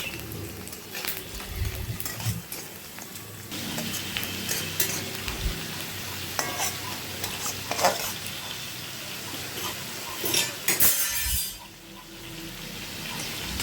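Chopped onions fry in a pan for a yogurt fish curry, a steady sizzle broken by scraping stirs and clinks, with a brief running-water sound near the end.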